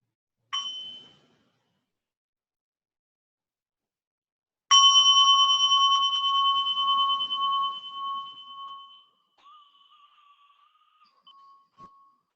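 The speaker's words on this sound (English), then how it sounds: "And listen to one sound of the bell to close." A single mindfulness bell struck to close a meditation session, a clear ringing tone that sustains and slowly fades over several seconds, preceded by a brief faint tap and followed by quiet.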